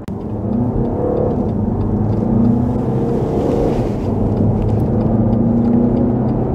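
A used BMW X1 with 110,000 km revs and pulls away with a steady, loud engine rumble that builds and holds throughout.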